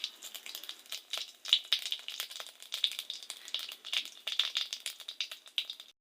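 Cumin seeds and bay leaves sizzle in hot oil in a kadai, a soft, steady crackle with quick scattered pops, fairly quiet and without talk.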